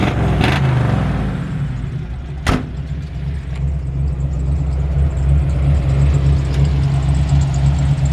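A 1964 Ford F100 shortbed pickup's engine idling loudly close by, with a deep steady exhaust rumble and a quick blip of revving early on.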